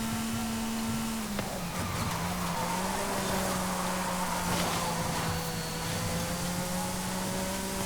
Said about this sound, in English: I also love how easy this car is to slide